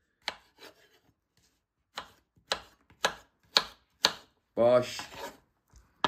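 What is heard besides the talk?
knife chopping cucumber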